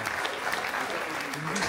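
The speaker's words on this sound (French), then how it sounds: "Roland, applaudissez-le très très fort parce que vraiment il le mérite." Dense, sustained audience applause in a conference hall, a steady roar of many hands clapping, fairly loud throughout with faint voices underneath.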